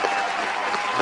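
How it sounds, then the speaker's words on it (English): Audience applause at a gathering, a brief dense burst of many hands clapping, steady and fairly loud throughout a single second. "Let me go and give y'all a round of applause."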